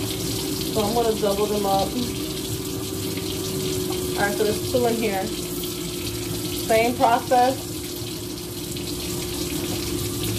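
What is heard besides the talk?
kitchen tap water running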